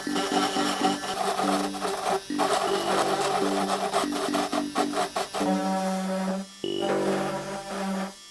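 A buzzing carving tool cuts deep into a pumpkin for shaded stencil work, running in repeated close bursts with brief pauses and a longer stop near the end, heard alone.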